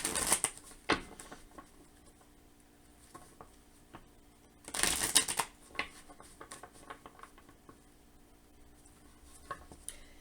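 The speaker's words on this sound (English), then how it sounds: "So we'll get a few shuffles for my Capricorn risings, pull a few cards" Tarot cards are shuffled in two quick bursts of riffling, close and crisp, with light tapping and handling between them in a quiet room.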